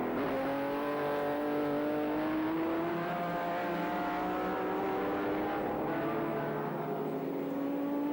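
Touring cars race at Sandown in 1984, close engines roaring and rising in pitch through the gears in a sustained, loud, layered drone as the cars battle for position, with no speech.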